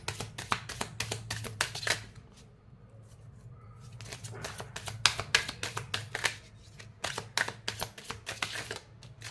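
Tarot cards are shuffled and handled close up, with rapid flicking bursts and crisp snaps repeating in clusters, separated by quieter pauses while cards are drawn.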